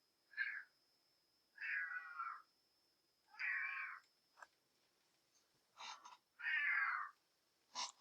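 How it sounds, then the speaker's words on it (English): A house cat, a female pet, meows repeatedly for food: about five drawn-out meows spaced a second or so apart, with a few short chirpy calls, close and clear against a quiet room with a faint steady whine. "I don't know if you can hear my cat, but she's not happy that I'm not giving her food right now"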